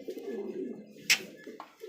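A pair of fancy pet pigeons, a male and a female, coo with a soft, low, rolling call close by, cut by one brief sharper sound.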